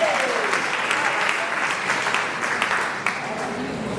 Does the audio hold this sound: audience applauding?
yes